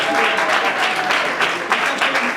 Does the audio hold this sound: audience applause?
yes